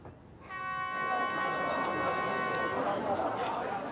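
A train horn sounds at a station just before departure, one steady blast of about two seconds over constant crowd chatter and platform noise.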